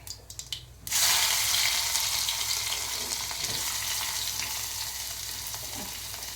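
Chopped onions and green chillies hit hot oil with crackling mustard seeds and cumin, bursting into a loud, steady sizzle right after a few quiet knocks, then frying on continuously up close with faint stirring.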